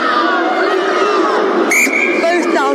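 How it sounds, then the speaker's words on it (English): Rugby crowd at a Wales U20 versus Canada U20 match, a sustained roar of voices with chant-like cries rising over the babble, plus a brief sharp whistle-like burst midway. "We can hear the cries of Oggies going out"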